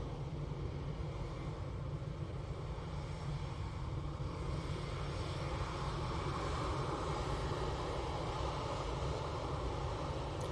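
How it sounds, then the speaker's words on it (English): An Etihad airliner at Manchester Airport spools its engines up for takeoff, a constant, fairly loud jet roar with a low rumble that holds steady from start to finish, with no voices. "it's pointed in the right direction now, so hopefully it'll be under power in the next few seconds"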